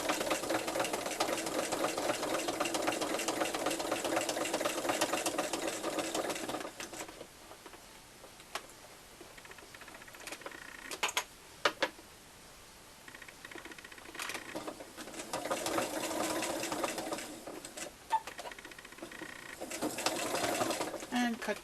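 Sewing machine stitching in the ditch on a fabric face mask, a steady fast mechanical run for several seconds, then stopping and starting again in short bursts near the end.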